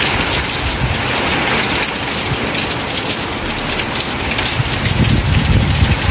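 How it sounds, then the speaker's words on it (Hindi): Steady rain pours down in a dense, continuous hiss, with a gusty wind adding a rougher rumble underneath. "अरे ये तो बारिश दिखी"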